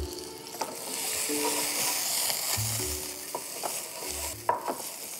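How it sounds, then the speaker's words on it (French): Cuttlefish in a hot pan being deglazed with balsamic vinegar, giving a steady soft sizzle with faint scraping and stirring clicks from utensils, fairly quiet and close. "Je vais déglacer juste la cuisson avec un petit peu de balsamique."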